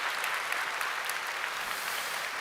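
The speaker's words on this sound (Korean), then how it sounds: "우리 박수로 축복해 주시기 바랍니다" A church congregation applauds after a Sunday service baptism, sustained full-room clapping that stays loud and dense from start to finish with no voices standing out.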